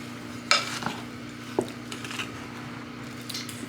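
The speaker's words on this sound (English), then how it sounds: "We're going to give that a stir." A spoon stirs rolled oats and salt into a sourdough mixture of einkorn flour. Soft scraping and a couple of light knocks against the bowl sit over a low steady hum, close and quiet.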